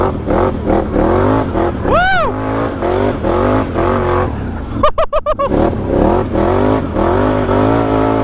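A 2023 Can-Am XXC mud bike ripping donuts, its engine revving in repeated throttle surges, loud and close, with a person whooping over it in brief sharp bursts.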